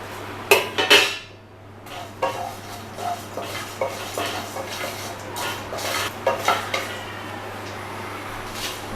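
Coriander, cumin and fennel seeds are dry-toasted in a pan, with a utensil repeatedly scraping and clinking against the metal in an irregular stirring rhythm, close and clear, no speech.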